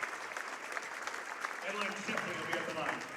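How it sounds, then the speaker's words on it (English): A crowd in a high school gym applauds seniors during a girls basketball sectional final, a steady wash of clapping under continuous commentary from an announcer. "they get a nice round of applause"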